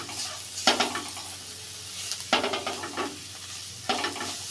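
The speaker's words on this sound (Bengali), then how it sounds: "আবারও 2 থেকে 3 মিনিট ধীরে ধীরে পেঁয়াজটা ভাজা ভাজা করে নিব।" Onion fries in a pan with salt and packet Maggi masala while a utensil stirs it, giving three bursts of scraping and clatter over a soft, steady sizzle, close by, with no talking.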